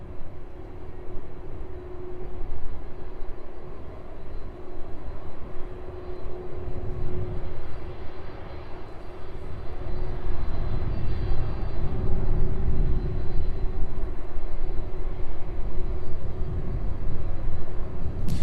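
Boeing 747 cargo jets at East Midlands Airport make a steady, loud engine roar with a constant tonal hum, rising in intensity over the second half as an aircraft moves closer, heard alone without talk.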